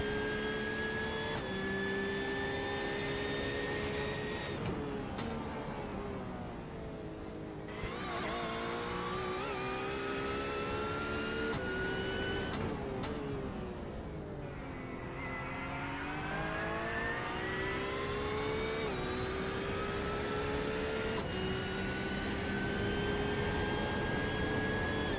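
A Porsche race car engine on a lap of Imola in iRacing, heard from the cockpit, steadily howling and revving through gear changes, with pitch dropping under braking and climbing again, loud and continuous throughout.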